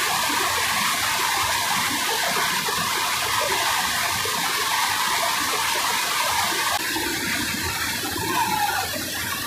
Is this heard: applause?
no